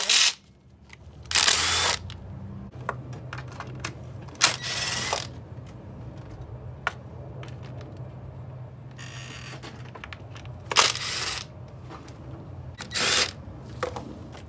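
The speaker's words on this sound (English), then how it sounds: "So take all those bolt out, 10 millimeter bolt out." Ratchet work removing 10 mm valve cover bolts on a 2.4 L Honda Accord engine: several short bursts of rapid clicking, close and fairly loud, separated by quieter pauses with faint handling noise.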